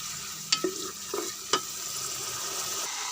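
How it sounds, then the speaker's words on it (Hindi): Mongre sizzling in oil in a pan over medium heat, a steady soft frying hiss with a few sharp clinks of a spoon stirring against the pan, no voices. "ये देखिए आप, ये मोंगरे फ्राई हो रहे हैं। हमने मीडियम आंच में इसको फ्राई करना है।"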